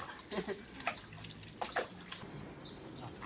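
Pets being rinsed with water during a home bath, with intermittent splashes and pouring bursts, close by, amid some faint chirps and background noise.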